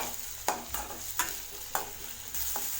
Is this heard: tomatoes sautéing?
yes